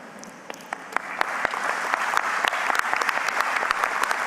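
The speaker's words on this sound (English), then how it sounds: "Please give these folks a serious round of applause" A crowd at an airports industry forum in the Virgin Islands breaks into steady applause that builds louder over a few seconds, dense clapping with sharp individual claps standing out.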